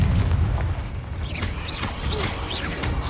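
Fire and blast spells cast in the Hogwarts Legacy video game inside a cave, loud booming bursts over a rumbling low background with sharp whooshing swoops recurring every half second or so.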